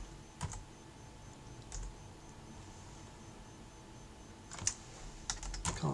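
Bursts of keystrokes on a computer keyboard, a short cluster early on and a faster run of clicks near the end, close and fairly quiet against a soft background hiss.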